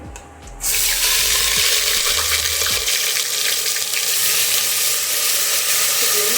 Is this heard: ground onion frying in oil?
yes